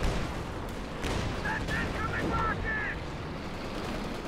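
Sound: rocket artillery barrage in Company of Heroes 2 video game

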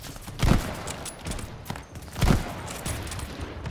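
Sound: gunfire in the video game Call of Duty Vanguard

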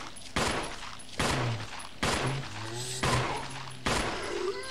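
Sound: gunshot from a handgun in the video game Resident Evil

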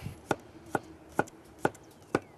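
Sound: knife slicing cucumber into thin rings

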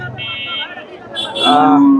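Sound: cow mooing

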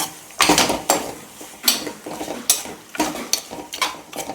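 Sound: stirring mutton curry in a pot

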